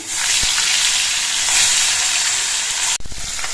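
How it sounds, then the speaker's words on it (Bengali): Bele fish frying in oil in a kadai gives a loud, steady sizzle throughout, with a brief clatter of stirring near the end. "বাকি মাছগুলো ভেজে নিচ্ছি"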